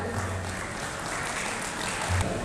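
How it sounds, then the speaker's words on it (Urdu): Steady, moderately loud audience applause at the Bahawalpur Literary Cultural Festival 2022, an even wash of many hands clapping that continues throughout with no break. "میں دعوت دوں گی آپ کی بھرپور تالیوں میں جناب نذیر لغاری صاحب کو۔"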